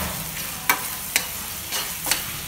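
Onion and tomato frying in oil for a vegetable kurma, a steady sizzle broken by three or four sharp stirring scrapes of a spoon against the pan, no talk.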